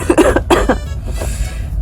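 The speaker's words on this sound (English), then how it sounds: "I'm still coughing from when I had to sprint 2 entire blocks" Harsh, close coughing in a quick burst of several hacks, then a few rougher, trailing throat-clearing coughs.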